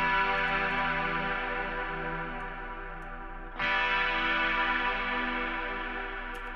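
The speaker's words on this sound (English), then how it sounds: "here's how the guitar that I used for the song sounds like with the shimmer on" A sustained guitar chord through a shimmer reverb plugin in FL Studio 21 washes into a shimmering, pitch-raised reverb tail, then a fresh swell rises midway and rings on with airy sparkle.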